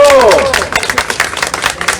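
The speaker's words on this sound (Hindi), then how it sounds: "तो एक ताली एक अपने लिए बजा लो, आप अपने लिए तो तेज बजा लो।" An audience applauds for themselves at a gathering of nursing staff, a crowd of hands clapping in a dense, rapid patter after a voice fades out, steady and fairly loud throughout.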